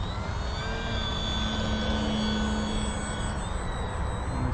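An Xfly Tasman 1.5 m RC model airplane comes in to land on its main wheels, its electric motor giving a steady, fairly loud whine with a constant hum that holds throughout, with no talking.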